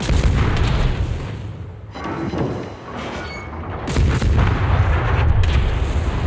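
Heavy naval guns boom in World of Warships, a dense barrage of loud, rumbling blasts that rolls almost continuously, with fresh salvos cracking out near the middle and end.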